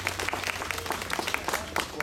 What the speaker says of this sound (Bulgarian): Моля, аплодисменти за тях.